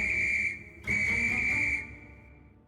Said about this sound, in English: The guard blew his whistle till he had no more breath and waved his flag till his arms ached